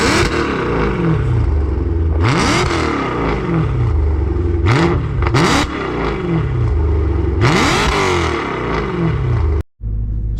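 A straight-piped BMW E92 M3 engine revving up and down repeatedly, loud and close, with sharp rising and falling sweeps and raspy crackle between pulls, ending in a brief cutout.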